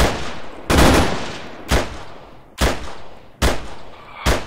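Gunfire in the military video game ArmA III: five loud, sharp shots spaced about a second apart, each with a long echoing tail that rolls off into the distance.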